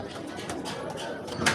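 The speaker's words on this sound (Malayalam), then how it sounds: "ആ സൗണ്ട് ഇങ്ങനെ കേൾക്കാം, പ്രാവ് കുറുകുന്നേ." Pigeons coo softly in low throaty murmurs amid a busy background of shuffling and faint chatter in Dharavi, Mumbai.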